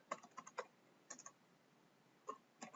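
Quiet computer keyboard typing at close range, a few short bursts of quick key clicks separated by brief pauses.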